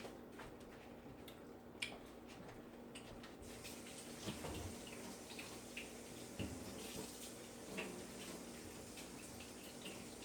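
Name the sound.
tap water washing grapes in sink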